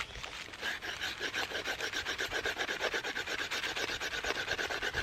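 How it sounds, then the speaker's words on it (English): Steady rhythmic rasping of an ESEE Candiru knife blade scraping and carving along a wooden branch, repeated quick strokes close up, with no talking. "So I'm just trying to clean up this branch a little bit, try to get more of an edge"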